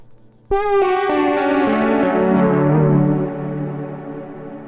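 A Sequential Prophet-5 analog synthesizer, run through a Shallow Water modulation pedal, plays a sustained descending chord line with a wavering, warbling modulation effect, loud and close, fading slightly at the end.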